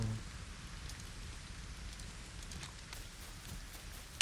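Steady rain patters in the video game Fortnite, a soft continuous hiss of drops with faint clip-clop-like taps scattered through and a brief knock at the very end.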